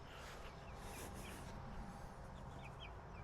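Chickens in a mobile chicken coop cluck softly in short scattered calls at close range over a low, steady noisy background, with no voices.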